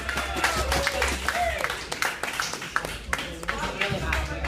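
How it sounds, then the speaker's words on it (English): A comedy roast crowd applauds a guest called up on stage, a dense wash of clapping and cheering that runs the whole time while a voice talks over it. "Give a round of applause for Joanne"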